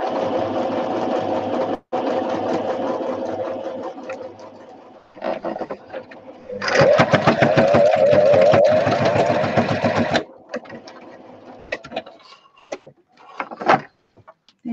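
A sewing machine stitches fabric for a pocket book in rapid whirring runs that stop and restart several times, with a loud sustained burst in the middle and soft clicks between.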